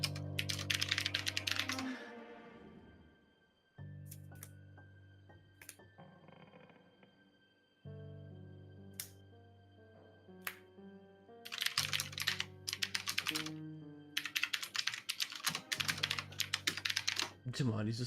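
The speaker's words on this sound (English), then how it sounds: "just typing on her keyboard while everyone's waiting around" A player in an online Pathfinder tabletop role-playing session types on a computer keyboard, producing bursts of quick clicking keystrokes that come and go among tonal background sounds and voices.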